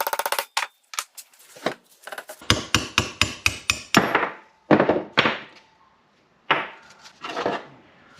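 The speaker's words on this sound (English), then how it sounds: "and then pound that pin out." A hammer pounds on the steel kingpin of a 1953 GMC truck's front suspension, delivering sharp ringing metallic blows in irregular bursts, then a quick run of evenly spaced strikes, with short pauses between groups.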